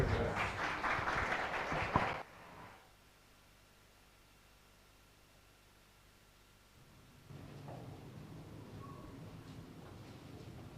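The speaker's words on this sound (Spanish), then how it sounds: "Entonces, con fuertes aplausos" Congregation at a Bible seminar gives the Coro Esperanza choir a burst of applause lasting about two seconds, then it drops to near silence before a low murmur of room noise returns.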